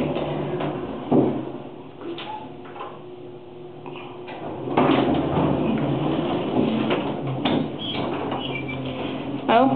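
A 1970s Montgomery G&P elevator door slides shut with a string of clunks, rattles and creaks, fairly close and loud in a quiet cab.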